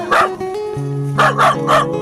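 A dog barks loudly and close, one bark and then a quick run of three, with a thin whining tone in between.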